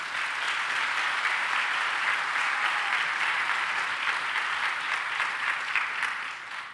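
Steady applause from a large crowd at a political party general council in Québec, honouring the Premier ministre, dense and continuous clapping with no pause, fading slightly at the end.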